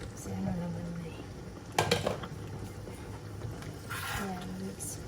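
A spoon stirs ginataang langka with dried anchovies and pork in a metal cooking pot, soft scraping with a couple of sharper clanks, close and fairly quiet, with a voice talking in the background.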